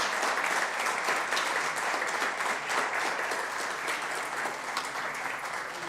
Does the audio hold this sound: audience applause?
yes